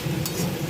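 Rice with spices, Kashmiri chilli powder, a pinch of sugar, cashews and raisins being stir-fried in a pan for muri ghonto, giving a brief, steady sizzle with scraping stirs, close and moderately loud.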